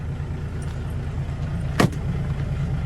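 A heavy truck engine idles with a steady, deep rumble throughout, broken by a brief sharp clatter near the middle.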